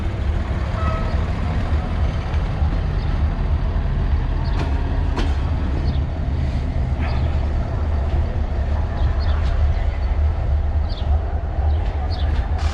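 Low rumble of a train pulling into Romania's biggest railway station, heard with steady engine drone and scattered squeals and clanks in a busy station setting.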